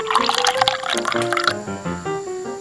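Water pours and splashes into a small container in a miniature kitchen, gurgling and dripping with a rising pitch as it fills.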